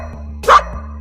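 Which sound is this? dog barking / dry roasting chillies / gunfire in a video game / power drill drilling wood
dog barking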